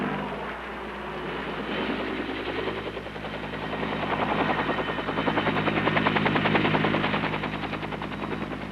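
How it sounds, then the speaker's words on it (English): M60 machine guns fired by helicopter door gunners while transports unload troops, a rapid continuous rattle of bursts over the loud steady roar and rotor thump of the helicopter, building slightly in intensity throughout. "Then their door gunners open up with their M60s, forcing the enemy to keep his head down while the transports unload their troops."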